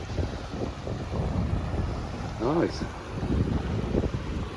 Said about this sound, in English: This is where I can hear the water running.